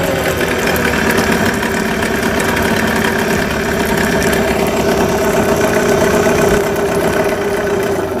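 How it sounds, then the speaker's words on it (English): A Yamaha 9.9 hp outboard motor idling after a service, a loud, close, steady mechanical drone with a fine rhythmic knock running unbroken throughout, no voices. "I'm going to shut the motor off and turn it back on."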